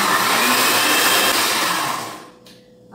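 An electric mixer beats whole eggs with a cup of sugar for a gluten-free, lactose-free chocolate cake batter, a loud steady whirring drone that winds down and stops near the end.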